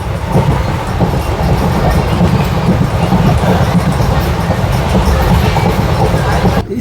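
Nanded–Adilabad Intercity Express rolling along the tracks, a loud continuous rumble with rhythmic wheel clatter heard from inside the moving train.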